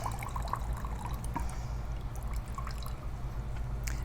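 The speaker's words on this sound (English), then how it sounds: "lift that up, let the water drain out," Water trickles and drips steadily from a lifted orchid pot, a close, quiet dribble with scattered droplets over a low background hum.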